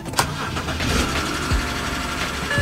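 A BMW car engine turns over and catches, then settles into a loud, steady idle close by, with a couple of brief clicks.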